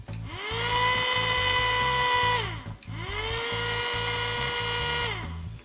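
Two long bursts of a high, whining battery-powered electric turbo fan for a pocket bike spinning up and winding down, with a steady rush of blown air and a low rumbling hum underneath.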